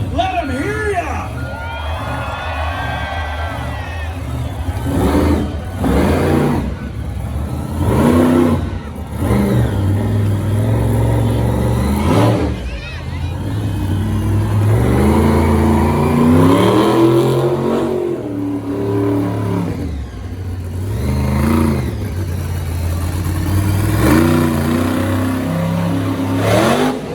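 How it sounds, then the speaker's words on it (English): A monster truck's loud, roaring engine revs in repeated bursts at a Monster Jam show in Costa Mesa, with an arena crowd and an announcer's amplified voice over it. "I believe that is what happened as Tyler Rowe getting fired back up."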